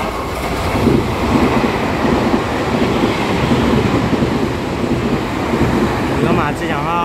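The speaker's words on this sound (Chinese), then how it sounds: "后排就是有列车要通过" A Puyuma Express TEMU tilting train runs through Jiaoxi station in Taiwan, a loud, steady rumble and rushing roar close by that lasts throughout, with a faint high whine near the end.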